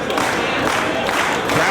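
Wrestling crowd at an ROH event cheering and roaring steadily as two wrestlers struggle up from the corner, a dense, continuous arena din with scattered claps and shouts.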